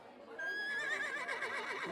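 A video-game pack horse with bags tied to its side whinnies outside, one drawn-out neigh that rises and wavers over a soft background.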